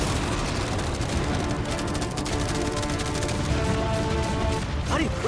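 Dense, continuous rapid firing from machine guns and fireworks aimed at a yacht, a loud, close barrage of overlapping bangs and crackles with no pause.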